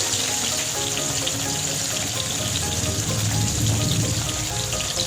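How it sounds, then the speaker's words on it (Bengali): Pieces of squash sizzle in hot oil in a pan with a loud, steady, dense crackle that runs unbroken throughout, close up and with no talk over it. "এটা একটু ভেজে নেব।"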